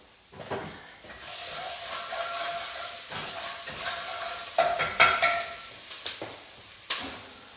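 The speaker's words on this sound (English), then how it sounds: "You want to brown up the onion and the pepper really well." Onion and pepper browning in a pot for Thai curry, a steady close sizzle and hiss with repeated scraping stirs and a few sharper knocks, no talking.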